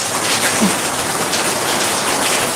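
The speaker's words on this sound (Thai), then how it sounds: "ฝนวันนี้ฝนตกด้วยค่ะวันนี้ฝนตกนะ" Steady rain falls in a dense, continuous hiss with no pauses and no voices.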